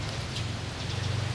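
Steady rain falling on a surface in a rural Thai setting, a dense, even patter with no breaks, fairly loud and close, with no voices.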